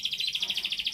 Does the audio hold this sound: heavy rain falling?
no